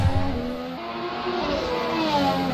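Formula 1 race cars, including Toro Rosso teammates, overtaking at the 2017 Azerbaijan Grand Prix in the Assetto Corsa racing game: a continuous high-pitched engine whine rising and shifting in pitch as cars accelerate side by side.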